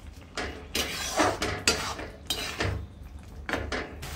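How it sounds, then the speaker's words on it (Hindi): A spoon scrapes and clinks against a pan while stirring besan gatte curry with green coriander, several irregular metallic strokes up close. "अब इसे अच्छे से कर देंगे मिक्स"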